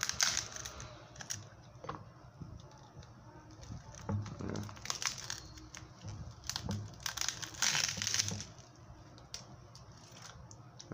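Shattered front glass being pried off a Moto G8 Power Lite phone on a workbench, giving irregular crackling, crunching and snapping bursts with faint clicks between them, close and fairly quiet, continuing for several seconds.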